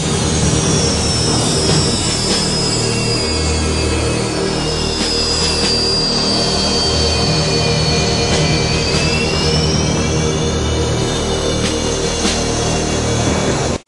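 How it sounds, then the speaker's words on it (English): A military jet aircraft taxiing out of a hangar gives a loud, continuous turbine whine with high pitch sweeping slowly downward and a deep rumble beneath, close and steady throughout. "As they taxi out of the hangar towards the ORP"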